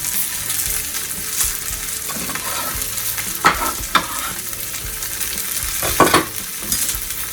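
Onion frying in a pan for a bacon and radicchio frittata, with a steady close sizzle and periodic scraping strokes from a wooden scraper, a few louder sharp scrapes standing out.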